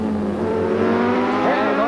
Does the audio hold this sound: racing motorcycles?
yes